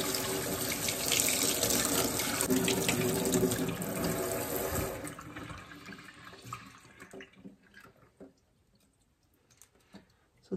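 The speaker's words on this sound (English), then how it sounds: "The thing that I'm going to try here is just to give them a bit of a rinse." Tap water runs hard into a sink while slimy, rotting roots from an indoor Kratky hydroponic plant are rinsed, then the flow stops after about five seconds, leaving faint drips and handling noises.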